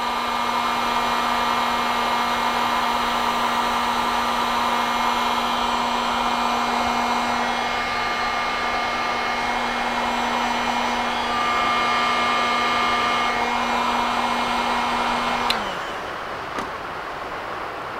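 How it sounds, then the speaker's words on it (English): A heat gun shrinks heat-shrink tubing over stainless steel cable on a marlin lure hook rig, a loud, constant blowing whine with a steady tone that runs alone for about fifteen seconds, then cuts off and winds down. "Take my heat gun,"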